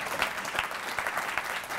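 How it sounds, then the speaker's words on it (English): An audience at the opening of the First Freedom Center claps for Randy Wyckoff, brief and fairly close applause with individual claps standing out in an uneven rhythm. "So please give Randy a great round of applause for the great work that he has done."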